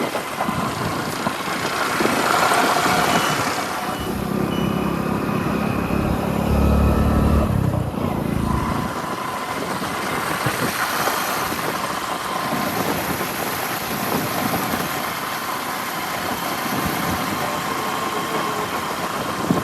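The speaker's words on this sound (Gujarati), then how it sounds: "હેડો બાઈકમાં હવે ચાલુ કરીએ ભાઈ" A motorbike starting and idling nearby, with a low rumble swelling in the first seconds and then a steady running drone with wind noise, on a casual Navratri-day ride.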